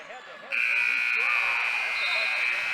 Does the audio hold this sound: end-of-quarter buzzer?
yes